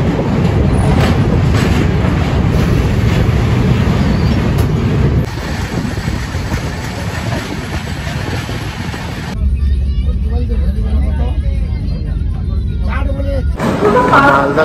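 Express train running from Vijayawada on the Malda to Chennai superfast route: continuous loud rumble and rattle of carriages on the rails, the texture shifting between sections, with voices mixed in.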